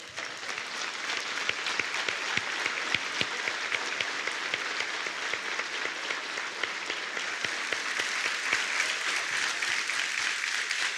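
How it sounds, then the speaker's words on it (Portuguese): Standing congregation of men giving sustained applause to the women in a church service, dense steady clapping filling the room for the whole stretch without talk. "os homens vão ficar de pé e aplaudir de pé essas mulheres"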